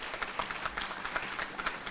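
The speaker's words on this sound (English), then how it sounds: "So if you would give a round of applause to all the teachers and staff that works here at Key" An audience at an elementary school's 40th anniversary gathering claps for the teachers and staff, a fairly faint, distant patter of many hands at an even pace.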